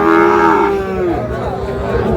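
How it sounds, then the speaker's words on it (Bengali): A Sahiwal breed calf at the Ambari cattle market gives a loud, drawn-out moo that falls in pitch, with market crowd noise and low talk behind it. "চমৎকার দুটি বাছুর গরু"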